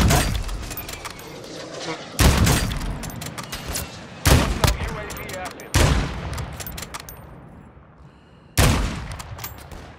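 Gunfire in the video game Call of Duty Warzone, a series of sharp, loud shots in separate bursts, each with a decaying tail, with players talking between them.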